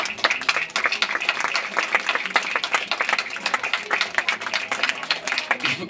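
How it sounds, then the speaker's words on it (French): An audience at a speech on rebuilding Haiti through environmental science applauds steadily, a dense, continuous patter of many hands at moderate distance for several seconds. "Je vous remercie beaucoup de vos applaudissements"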